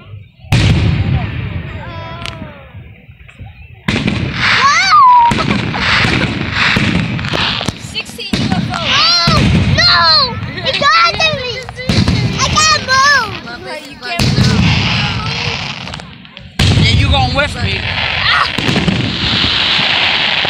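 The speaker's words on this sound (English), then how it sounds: "you're missing fireworks" Fourth of July fireworks and firecrackers burst repeatedly in loud, sharp booms and crackling volleys, spaced across the stretch with brief gaps, while several people talk and exclaim nearby.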